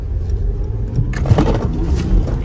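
A Mercedes G-Wagon 400d with a diesel engine in sport mode rumbles low inside the cabin, then swells into a louder, fuller surge of acceleration about halfway through.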